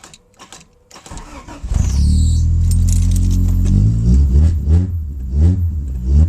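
A key rattles in the ignition of a 1985 Honda CRX Si, then the engine cranks briefly, catches and settles into a loud, rough idle with small rises in revs, close by.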